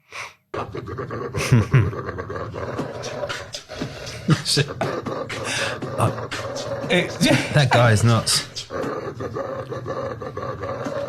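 A vicious-looking dog in a played video gives loud roaring, growling and panting noises in bursts, with a voice talking over parts of it.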